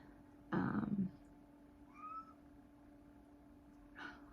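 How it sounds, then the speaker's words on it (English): A house cat shut out of a room meows loudly once nearby, then gives a fainter, higher call and a final short meow after a pause, in a quiet indoor space. "I've got a cat that's mad that she's locked out of my room"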